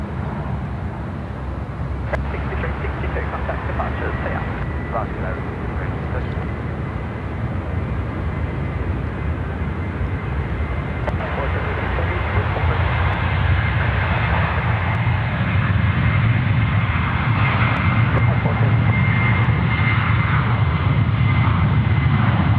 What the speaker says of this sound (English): Cleared for takeoff.